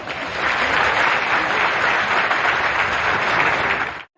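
An audience claps steadily and loudly at a public event, a dense unbroken wash of applause that holds for several seconds before cutting off abruptly.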